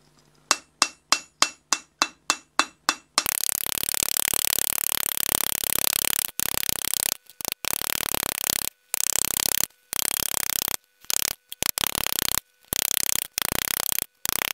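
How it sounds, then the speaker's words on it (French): Ball-peen hammer tapping a metal sword pommel to texture it for a decorative minigolf sword: about a dozen separate, evenly spaced ringing strikes, then a loud, dense burst of rapid hammering broken by short pauses. "je vais lui donner de la texture en tapant avec mon marteau à boules"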